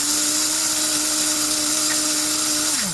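A blender grinds filter sand down to a fine powder for model railroad ballast. Its motor drones loud and steady as a constant whine, then the pitch drops as it winds down at the end.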